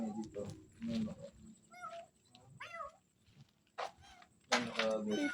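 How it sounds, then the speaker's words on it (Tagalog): A cat meows repeatedly at night in a cemetery, several drawn-out, wavering cries spaced apart with one louder caterwaul near the end, while people talk nearby. "Creepy talaga ng pusa."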